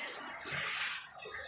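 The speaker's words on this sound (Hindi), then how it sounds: "ये पानी साफ होकर आगे फिल्टर होकर आगे की तरफ जा रहा है" Water rushes steadily through a homemade 220-volt water filter with three fins, a loud, hissing flow that swells in two surges and runs on without pause.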